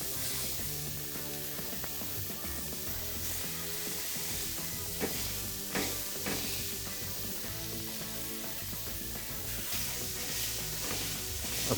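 Seasoned burger patties for smash burgers sizzle on a hot Traeger grill griddle, a continuous loud hiss of frying with occasional crackles and pops, and no voices.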